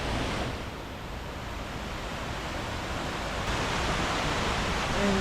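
Steady broadband rush of falling water from Buruwisan and Lanzones Falls on Mt. Romelo, continuous and fairly loud, with wind-like hiss and no talking.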